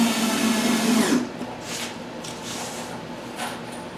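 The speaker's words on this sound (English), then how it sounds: "So now we just finish screwing her together." Power drill driving screws into a pine face frame for a DIY kitchen cabinet, a close whirring whine that runs hard for about a second and then eases to a lower steady hum, with no speech.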